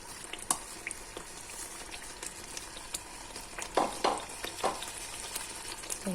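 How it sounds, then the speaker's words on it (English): Sambal with cockles (kerang) being stirred in a pan as it thickens and reduces, soft bubbling and sizzling with a few sharp scraping clinks of the utensil, fairly quiet and close. "And give it a good mix"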